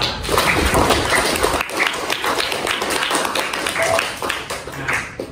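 Students in a classroom clap for a classmate, a lively burst of many hands close by that holds steady, with a few voices mixed in.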